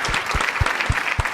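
Studio audience applause, a brief burst of rhythmic hand clapping with steady beats under light crowd noise, recorded up close.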